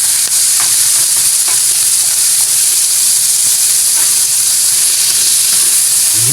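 Bitter gourd (ampalaya) sizzles steadily in a hot frying pan, a continuous loud hiss of frying with faint stirring scrapes throughout.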